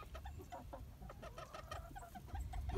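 Chickens cluck softly in a snowy South Carolina yard, a steady scatter of short calls from the flock over a low background rumble, with no talking.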